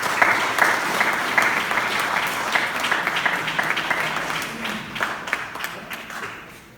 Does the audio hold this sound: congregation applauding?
yes